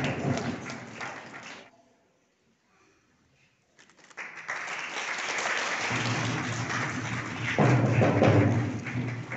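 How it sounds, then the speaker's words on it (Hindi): An audience at a church Valentine's Day wedding ceremony claps loudly after being asked to, a pause of near silence breaking into sustained, swelling applause that grows fuller toward the end. "ताली बजाइए आप लोग।"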